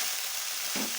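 Chopped green chilli and tomato stir-fried in a pan for chowmein, a steady close sizzle with a stirring scrape near the end, no talking.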